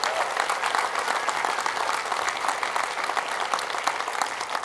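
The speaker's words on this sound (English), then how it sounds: "How about a round of applause for the new Memorial Union?" An audience applauds the opening of the new Memorial Union on a university campus, a dense, even clapping that stays steady and loud throughout.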